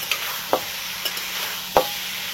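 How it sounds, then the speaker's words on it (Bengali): Chicken keema frying with capsicum in a pan, a continuous sizzle punctuated by several sharp spatula clacks and scrapes against the pan, close up with no talking. "এইবার এটাকে ভেজে নেব চিকেনের সাথে"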